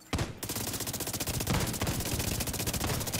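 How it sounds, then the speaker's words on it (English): Rapid automatic gunfire rattles loudly and steadily in a video game shooter's Dark Zone, a sustained burst of shots aimed at the player with no pauses. "Oh, somebody shoots at me"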